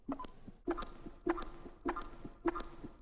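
A squeaky sound made with the mouth and then processed with effects repeats five times in a steady rhythm, each burst a short cluster of bright squeaks with a ringing tail. It is fairly close and moderately loud, with no talking.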